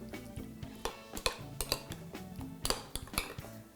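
Meatball mixture being stirred in a bowl, with a utensil giving irregular clinks and scrapes against the dish, close and fairly quiet, with no talking.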